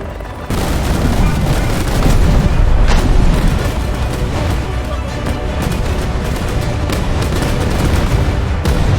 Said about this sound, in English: one of the BLUEWATER's 120mm 3 kilogram time-fused shells exploding next to the helicopter